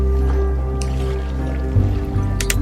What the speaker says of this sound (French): Vous percevez à travers la tôle le bruit des clapotis, des vagues.